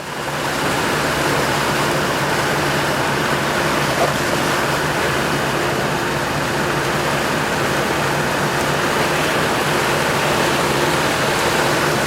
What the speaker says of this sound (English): truck spitting that concrete out through that sock there